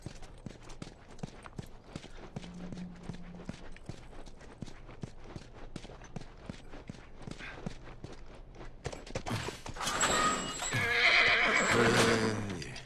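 Horse hooves clip-clop in a steady walking rhythm for several seconds, then the horse gives a loud, drawn-out whinny, in The Last of Us video game.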